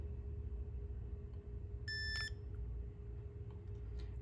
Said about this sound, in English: press the T and hold until the device beeps